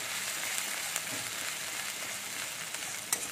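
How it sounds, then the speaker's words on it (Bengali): A paste of dried coconut and cashew fries in a pan for an egg curry, giving a dense, even sizzle that fills the short stretch, with a couple of faint utensil taps and no voices. "সেটা আমি একটু দিয়ে দিচ্ছি, কারণ একটু ভাজতে টাইম লাগবে"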